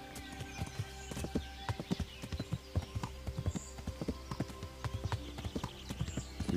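Horse hooves clip-clop in a steady walking rhythm on a road in Kingdom Come: Deliverance, the clear repeated knocks sitting over soft ambient game music, with no voices.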